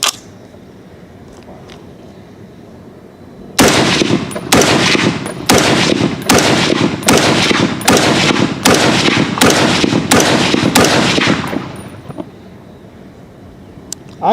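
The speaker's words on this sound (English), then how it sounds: "Then we'll put the brake back on and I'll run 10 more rounds." A Ruger SFAR .308 rifle fires a steady string of about ten loud, closely spaced shots from an offhand position, each crack sharp and evenly paced.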